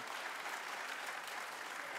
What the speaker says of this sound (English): Clap if you would like feedback to be improved.